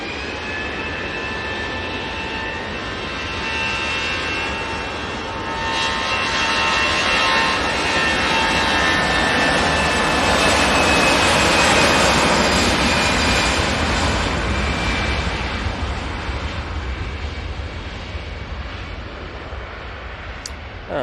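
A Wamos Air jet taxis and departs toward Madrid, a broad, loud turbine roar that swells in the middle and slowly fades, heard from nearby with no talking.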